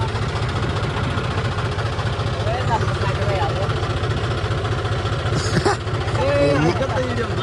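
A tractor engine runs at a steady idle, a low, continuous chugging throb that holds throughout with only slight shifts in tone.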